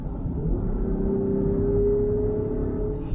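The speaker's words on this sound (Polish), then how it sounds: "jadę dieslem. Te 6 cylindrów brzmi nawet nieźle, posłuchajcie." A Land Rover Defender six-cylinder diesel engine hums at a steady idle, a low smooth rumble with a faint rising drone, close and continuous.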